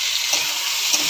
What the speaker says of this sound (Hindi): पियाज भाजीगला।